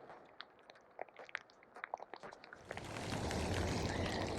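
Steady broadband hiss of heavy rain during a trike ride through a cemetery, with scattered drips and splashes at first before the downpour swells into a constant loud roar.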